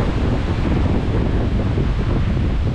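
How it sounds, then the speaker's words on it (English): Strong wind buffets a microphone while cycling on the Sakatah trail in Minnesota, a loud continuous roaring rumble that sounds like crashing surf, with no talking. "Can't get any windier."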